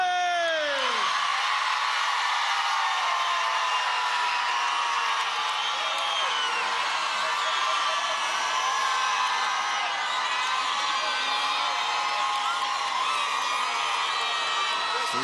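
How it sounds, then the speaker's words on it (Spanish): A large crowd of women at an outdoor political campaign rally on Avenida Bolívar in Caracas, shouting together in one long, loud, sustained roar of voices and whoops that fills the whole stretch. "que se escuche en Miami, el grito de la mujer valiente de Venezuela"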